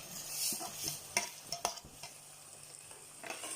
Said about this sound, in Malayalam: എന്നിട്ട് നന്നായി മിക്സ് ചെയ്ത് കൊടുക്കുക